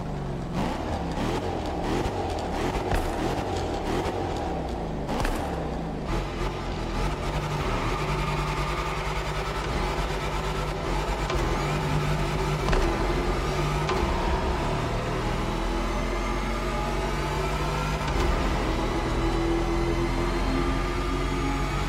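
A car engine in The Crew Motorfest driving through a tunnel, revving steadily with gear changes and a continuous loud drone throughout, no talking.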